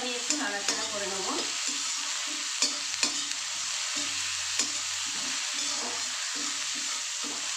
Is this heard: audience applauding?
no